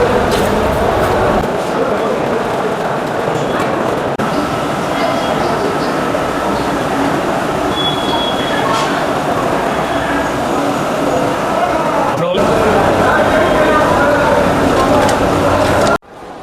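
Busy Sealdah railway station, south section, with a steady wash of trains, rolling wagons and platform bustle filling the air, people talking throughout and a brief sharp squeal partway through.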